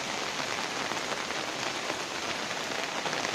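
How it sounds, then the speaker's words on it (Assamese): Steady, heavy rain pours down without a break, a dense hiss of drops drumming on surfaces close by. "পূৰা ঝৰঝৰাই বৰষুণ দিছে।"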